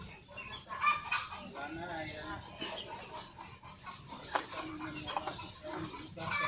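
Chickens clucking and calling close by, mixed with farmyard noise and some low background voices.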